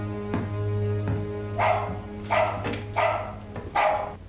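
A dog barks four times at a steady pace, fairly close and clear over a low steady hum, with a couple of faint soft thumps just before.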